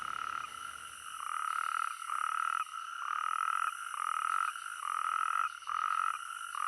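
Male natterjack toads call from rainy-season ponds in Iberia, a loud trilling chorus of long sustained buzzing rattles pulsing on and off in overlapping bursts, with fainter callers steady in the background.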